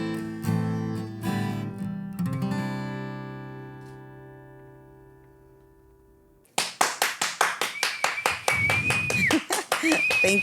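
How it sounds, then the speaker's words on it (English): One person claps hands alone in quick, sharp bursts near the end, following a fading stretch of singing and sustained musical tones. "I'm a one-man clapping band."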